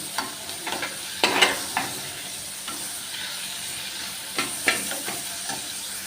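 Onions sizzling as they roast in a pan on a gas flame for chana dal, a close, steady fry broken by several sharp scraping stir strokes.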